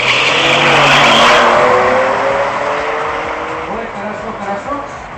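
Bugatti Veyron and Porsche accelerating hard side by side in a race, with a loud roaring engine rush fading gradually into the distance and voices talking underneath.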